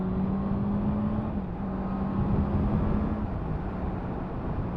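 A 2023 Honda CB650R Neo Sports Cafe motorcycle pulling steadily at around 6,000 rpm through easy gear changes at motorway speed, a constant close engine drone with slight pitch dips at each shift, no voices.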